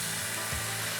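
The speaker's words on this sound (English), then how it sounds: "now we can deglaze with some white wine" A pan of caramelised speck and leek is deglazed with white wine, giving a loud, continuous close-up sizzle and hiss with a faint bubbling undertone and no talk.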